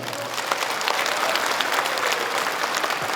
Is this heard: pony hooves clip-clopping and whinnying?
no